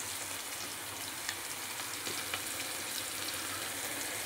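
A vegetarian vegetable curry fries in a pan with a dense, even sizzle and faint crackles throughout, close and steady with no voices.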